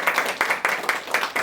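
An audience at a Tamil award ceremony clapping, a short burst of dense applause that rises and falls in quick waves at moderate distance.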